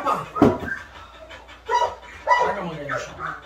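A Belgian Malinois gives several sharp barks and yelps in short bursts during guard and protection training, close by, with a voice calling over it.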